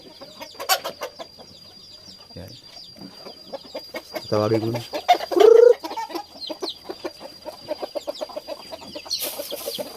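Hens cluck and murmur nearby amid farmyard bustle, with a louder squawk in the middle and a person speaking briefly.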